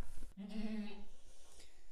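A goat in labor gives one close, loud, drawn-out bleat, with quiet background noise before and after.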